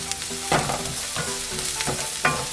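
Vegetables stir-fried in a pan over low heat for janchi guksu noodle soup, with soft clattering stirs every half second or so over a steady low sizzle, close by and without talk.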